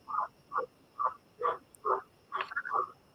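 Frogs croak in a steady rhythm, about seven or eight evenly spaced calls that grow busier toward the end, carrying clearly with no voices over them and a faint high insect hum running underneath.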